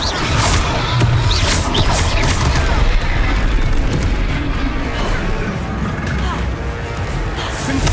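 Booming spell blasts and crashing impacts from Hogwarts Legacy combat, loud and dense throughout with repeated bursts layered over a busy battle din.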